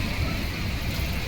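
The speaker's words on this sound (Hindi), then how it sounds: "बारिश बहुत तेज हो रही है।" Heavy rain pours down in a steady, dense hiss with no breaks, close and fairly loud, with no voices over it.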